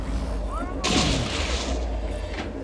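Enemy grenades go off in Elite Dangerous Odyssey as one loud, close blast, with a rumbling tail that lingers over steady background combat noise.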